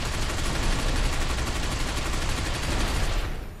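Dense, continuous gunfire roars in the video game Binary Domain, a loud unbroken fusillade aimed at the player that drops off sharply at the very end.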